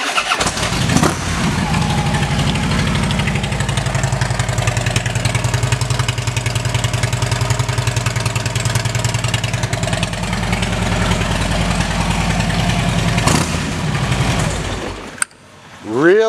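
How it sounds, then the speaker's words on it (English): A 2012 Harley-Davidson Electra Glide Ultra Limited with a Vance & Hines exhaust starts and settles into a loud, close, steady loping idle with rhythmic pulsing, then cuts off near the end. "Really nice sounding exhaust system from Vance & Hines."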